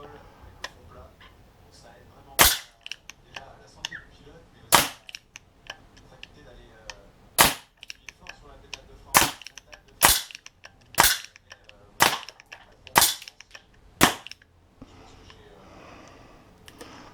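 Shots from an Artemis CP400 4.5 mm CO2 air pistol: about nine crisp, loud cracks spaced a second or two apart, with faint speech between them.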